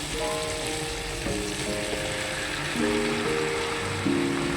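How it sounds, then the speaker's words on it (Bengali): Potatoes and prawns frying in a pan give a steady, moderate sizzle close by, with a few louder bursts as the pan is stirred and faint tonal sounds running alongside. "এটা আমি একটু ভেজে নেবো চিংড়ি মাছের সাথে"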